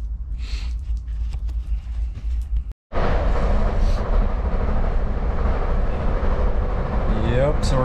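Interior of a passenger train heading back to Santa Fe, a steady loud rumble of wheels and motion, with a brief dropout partway through and a voice speaking over the noise.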